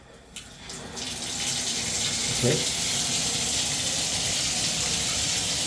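A shower tap is turned on with a click, then water runs and splashes steadily at a constant rush, and a voice speaks briefly near the start.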